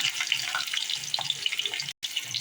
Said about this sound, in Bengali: আমার তেলটি গরম হয়ে গেছে। এখন দিয়ে দেব পেঁয়াজ, রসুন বাটা,